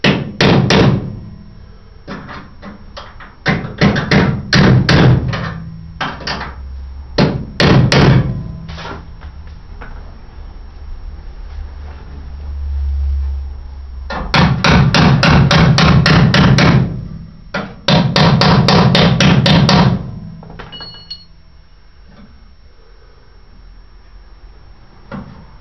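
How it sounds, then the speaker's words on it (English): Loud metallic hammer blows drive a flat parallel punch against a part on an Austin A35 under restoration, landing in rapid bursts of quick taps separated by short pauses, with no speech. "Give it a tap there with a parallel punch, a flat punch"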